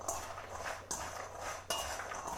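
Vegetables tossed in a little oil and salt are stirred around a pan, with scraping, clinking utensil-on-pan sounds and two sharper knocks, close and moderately quiet, no talking.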